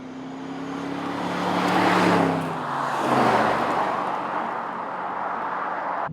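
Aston Martin Vantage sports car driving out onto winding roads, its engine note rising and swelling twice as it accelerates, then settling into a steady road roar heard from close by.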